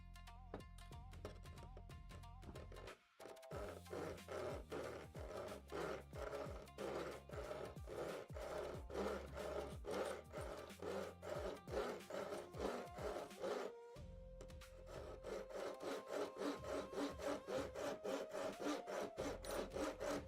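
Hand saw cutting material for a custom RC tracker build, a steady rhythm of quick back-and-forth rasping strokes, close and loud, pausing briefly twice before resuming.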